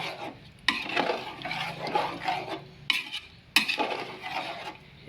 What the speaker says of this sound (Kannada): ಇದನ್ನು ಮೊಸರು ಹಾಕಿದ ನಂತರ ನೀಟಾಗಿ ಮತ್ತೆ ಒಂದು ಸಲ ಎಲ್ಲ ಮಿಕ್ಸ್ ಮಾಡಿ